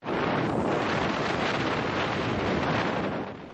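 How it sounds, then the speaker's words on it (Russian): Strong blizzard wind roars steadily over a snow-covered road that has drifted level with the surrounding field, a dense, continuous rushing gust buffeting the microphone for a few seconds before easing slightly at the end, with no voices. "Метель практически сравняла проезжую часть с полем."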